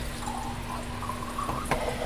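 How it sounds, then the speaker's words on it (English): Tap water from a kitchen sink runs into a container, a quiet steady trickle and splash with a brief louder gush near the end, no voices. "you're just going to put water in there"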